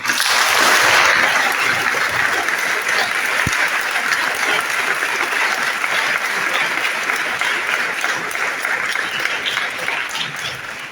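Loud, sustained applause fills a church as a congregation acclaims Jesus during a first communion Mass, dense clapping from many hands running unbroken and easing slightly toward the end.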